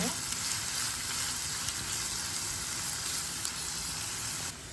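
Onion frying in oil until brown for a fish curry, a continuous dense sizzle heard up close that cuts off abruptly at the end, with no one speaking.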